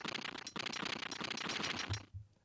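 A Rapid Fire gun add-on in Blockland shooting in a fast, continuous stream of sharp reports, loud and close, with a couple of short gaps before it stops abruptly.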